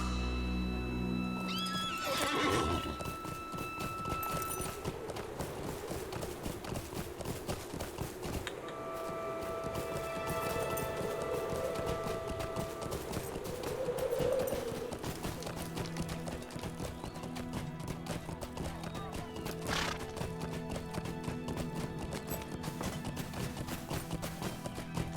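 Horse in the Lord of the Rings Online game neighs once loudly, then hooves clip-clop in a quick, steady galloping rhythm throughout, with game music tones layered underneath.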